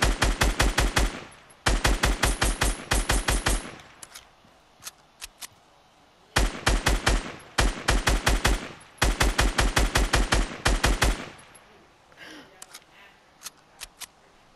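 Rapid bursts of automatic gunfire from the M3TEOR STRIKE video game, loud and close, firing in repeated sustained volleys separated by short pauses and a few single shots.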